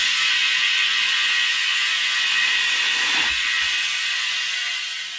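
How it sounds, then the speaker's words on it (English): A garage air compressor pushes air into a tire to seat its bead on the rim: a steady, loud hiss fills the whole clip, with a brief low thump near the end as the bead shifts. "And the good old trusty garage air compressor."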